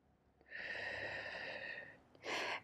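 A long, airy breath drawn and released during a Pilates mermaid stretch, followed by a shorter, sharper exhale, close and clear with no talk.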